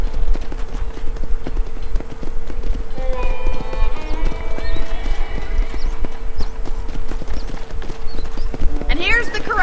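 Horses' hooves clip-clop steadily on the ground in the Red Dead Redemption game, a close rhythmic trot with a horse whinnying near the end, while people talk over it throughout.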